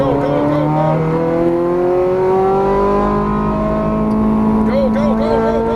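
A Ferrari F430 Scuderia on a racing track roars loudly as its engine revs climb in long rising sweeps, then drop briefly and climb again, heard from inside the car.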